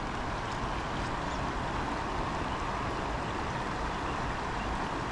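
A powerful river current rushing in flood, a dense, steady broadband roar that stays loud and unchanging from start to finish, with no voices.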